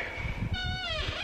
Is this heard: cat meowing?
yes